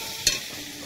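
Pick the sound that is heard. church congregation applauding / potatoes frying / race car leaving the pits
potatoes frying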